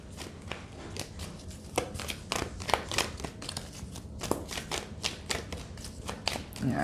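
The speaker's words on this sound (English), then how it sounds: "I'm just going to do maybe just a couple more shuffles" Tarot cards being shuffled by hand, a rapid stream of crisp riffling slaps and flicks at close range, steady throughout with no talking.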